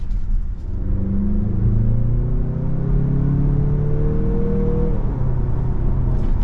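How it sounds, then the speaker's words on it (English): A steady low engine drone, artificial exhaust noise piped into the cabin of a 2023 Mazda CX-50 2.5T SUV, rising gradually in pitch as the vehicle accelerates, then easing off. "Sounds like we got some pumped in exhaust noise in here."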